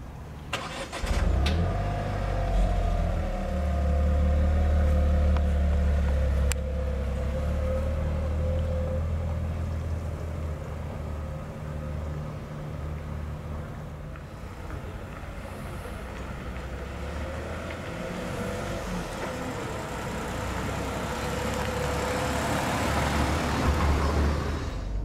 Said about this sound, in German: Und dazu müssen wir eben noch klassisch den Zündschlüssel bedienen.